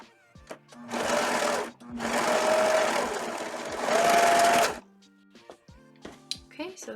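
A sewing machine stitches fabric in three steady whirring runs, loud and close, separated by short pauses, with a voice talking briefly afterward.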